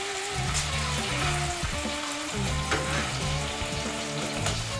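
Food fries in a skillet with a continuous crackling sizzle, steady and close, under soft background music.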